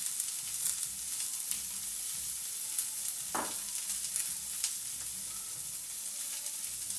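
Capsicum rice seasoned with salt and a pinch of turmeric sizzles in a pan, a steady soft crackle of frying with one brief metallic clink midway.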